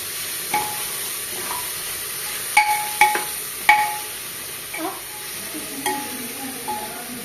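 A spoon stirs salt into chicken biryani masala frying in a pan, with soft scrapes and occasional metallic knocks every second or so over a low, steady sizzle, close by and free of speech.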